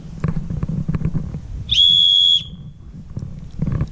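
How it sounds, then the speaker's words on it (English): A single loud, shrill whistle blast lasting under a second, nearby, set between rustling handling noises. "a whistle for signaling."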